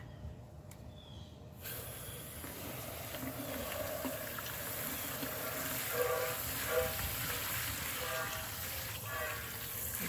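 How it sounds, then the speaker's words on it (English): A garden hose sprays water to wash ash from incinerated IC chips into a bucket, a steady close rushing and splashing that starts abruptly and continues throughout. "My garden hose over here. And I'm just going to wash this stuff into this bucket."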